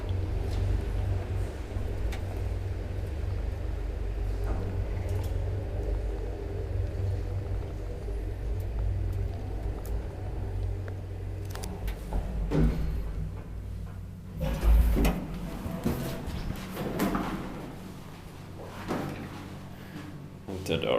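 An old Kone traction elevator in an Espoo apartment building, running with a low steady rumble and hum, then louder clunks and rattles toward the end, with people talking faintly inside the car.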